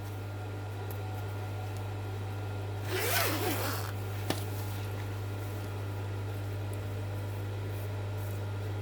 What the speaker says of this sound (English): let's open the zip.